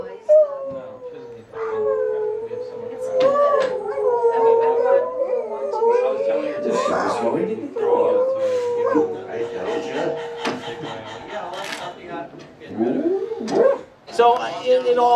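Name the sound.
dogs howling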